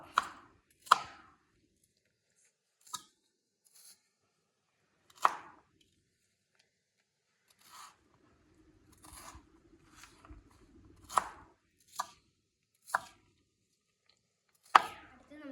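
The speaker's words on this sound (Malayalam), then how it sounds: "പിന്നെ നമുക്ക് അരിയാം. ഫസ്റ്റ് സവാള." Sharp knife chops on a cutting board, cutting onion, irregular and spaced apart, some in quick pairs, with quiet pauses between; close and fairly loud, no speech.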